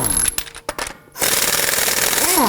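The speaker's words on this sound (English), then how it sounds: "we're going to loosen and remove the lug nuts" An impact wrench with a 21mm socket loosens lug nuts on a front wheel of a 2018-2024 Toyota Camry. A few short rattling bursts come first, then a sustained loud, close buzzing hammer.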